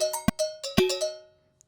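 Two sharp Pro Tools metronome clicks land about half a second apart amid a few soft synthesized MIDI notes, all brief and close in an otherwise quiet moment.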